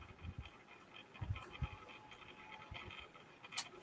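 A dog pants quietly in a room, quick soft breaths in an irregular rhythm with a few faint scratches and small clicks, close but low in level, and no one talks.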